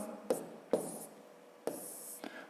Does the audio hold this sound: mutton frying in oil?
no